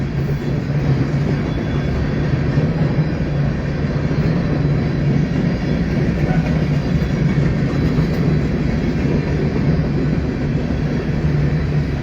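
A freight train of empty cars rolls past close by, a steady loud rumble and rattle of wheels and wagons that holds without a break throughout, with no talking.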